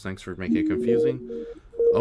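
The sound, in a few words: telephone dialing tones from a program opened by accident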